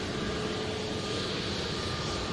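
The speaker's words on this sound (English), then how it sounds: "Pegasus A321 just vacating the runway there." A Pegasus Airbus A321 vacating the runway at Manchester Airport, a steady, broad jet engine roar holding even and moderately distant for a couple of seconds.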